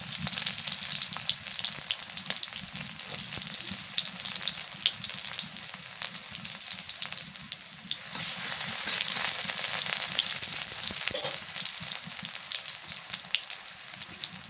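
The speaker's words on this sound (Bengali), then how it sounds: "করলা আলু সবজি কাঁচা ঝোল দিয়ে দিলাম" Bitter gourd, potato and mixed vegetables fry in a pan with a steady, loud sizzle that runs the whole time, swelling a little partway through, with faint stirring and no talking.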